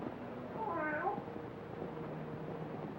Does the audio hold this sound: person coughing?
no